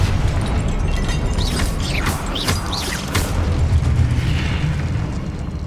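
Confringo, a fire spell in Hogwarts Legacy, lands as several sharp bursting blasts over a rumbling, busy game background.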